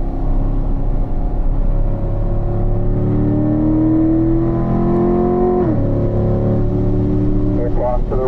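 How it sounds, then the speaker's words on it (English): A Corvette engine on a track at performance driving school, loud and close, holding a steady droning tone that rises as the car eases off the throttle through a corner, with a sudden drop in pitch near the end. "Okay, Drew, as you turn, you're going to ease that uh, throttle back a little bit until you hit your apex."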